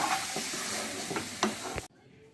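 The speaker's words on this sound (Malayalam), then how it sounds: "ഇനി നമുക്കിത് ഇളക്കി കൊടുക്കണം നല്ലപോലെ" A spoon stirs potty curry (a tripe dish) in a pan, giving several soft scraping strokes over a steady sizzle before the sound cuts off abruptly.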